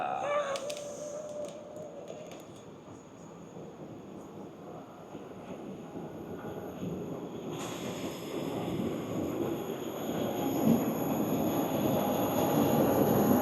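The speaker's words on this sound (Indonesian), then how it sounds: "Eurostar-nya datang." A Eurostar train pulls into a station platform with a low, rising rumble of wheels and carriages that grows steadily louder and closer, with faint squeal and wind buffeting at the microphone.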